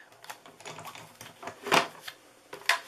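Electronic cutting machine running a sheet of paper through for a Christmas treat box, giving a quiet sequence of clicks and short mechanical whirs and scrapes up close, with louder bursts near the middle and the end.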